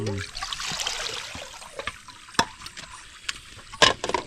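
Freshly picked wild mushrooms are rinsed in water with sloshing and trickling up close, broken by a few sharper splashes and knocks near the end.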